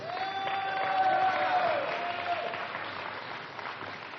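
A church audience applauds in a steady wash of clapping with a faint crowd murmur, while a sustained tone glides downward partway through and fades.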